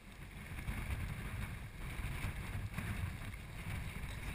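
Headwind buffets the microphone in a low, gusty rumble that pulses irregularly and holds steady throughout, fairly quiet and with no voices.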